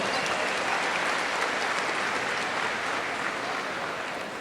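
At a university spring commencement, a crowd applauds newly commissioned cadets with continuous, dense clapping that stays loud and tapers only slightly toward the end.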